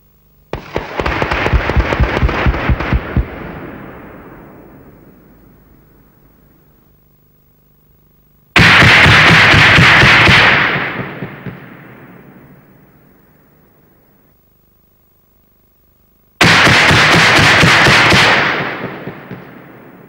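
CV-90 3P programmable ammunition rounds fired in time mode at dismounted infantry dummies, bursting over the target area: three separate loud bursts of rapid cracking detonations, each trailing off into a long fading rumble, with no talking.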